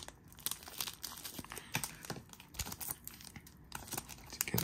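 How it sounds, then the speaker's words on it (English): A foil Marvel Flair trading card pack from 2023 is cut and torn open nearby, giving quiet, irregular crinkling and tearing bursts with no talk. "Let's see if I can just cut this open."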